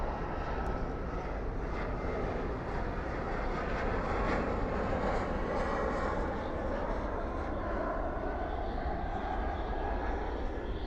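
An American Airlines jet arriving from San Jose lands at Dallas Fort Worth airport at night with spoilers up and reverse thrust, producing a sustained, even engine roar heard from a distance.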